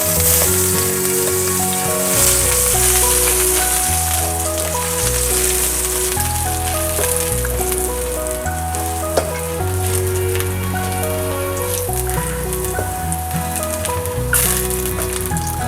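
Ginger sautés in a pan with a continuous close hiss and crackle, while a steady layer of music plays throughout and no one speaks.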